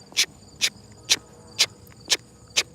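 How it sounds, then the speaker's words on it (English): Crickets chirp in short, evenly spaced bursts outdoors at sunrise, six sharp trills about half a second apart over a faint low background. "maybe some birds and crickets in the background"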